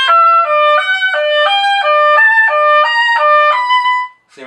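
A solo oboe plays a slow Ferling etude passage, clear, legato notes stepping up and down in a steady, unhurried rhythm, close and loud with nothing else heard.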